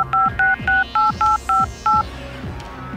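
A phone number is dialled on a telephone keypad, giving seven short, evenly spaced beeping tones in a steady rhythm. The tones are loud and close, followed by a quieter pause.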